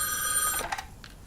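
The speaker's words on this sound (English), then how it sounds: "Housemaster gets a mysterious phone call." A telephone rings for a mysterious call in a horror scene, a bright trilling bell that cuts off partway through, followed by faint clicks and room noise.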